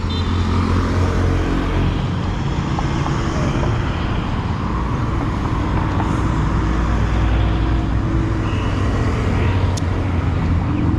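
Steady, loud street traffic in Santa Rosa, Laguna, Philippines, at an intersection without traffic lights, with cars, buses and trucks rumbling past continuously and engine drone filling the scene.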